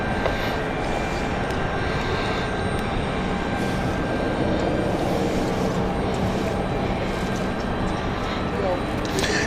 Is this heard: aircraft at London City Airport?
yes